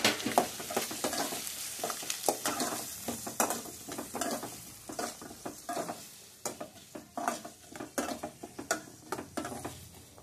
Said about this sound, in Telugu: దాల్చిన చెక్క, యాలుక్కాయలు, లవంగాలు, యాలకులు వేసుకున్న తర్వాత ఉల్లిపాయలండి, కట్ చేసిన ఉల్లిపాయలు.